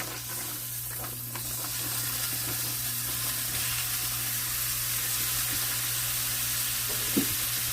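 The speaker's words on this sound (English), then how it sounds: "Now, I have here about 2 pounds of homemade ground chuck. Go ahead and get that right in the pan." About two pounds of homemade 85-15 ground chuck in a hot pan, a dense, even sizzle and hiss holding steady and close, with a faint scrape near the end and no speech.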